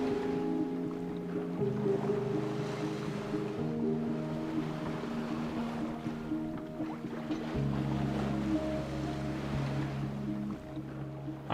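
A sailboat heads south over a shallow reef area of shifting sand, with a steady rush of water and wind along the hull and a low droning hum throughout.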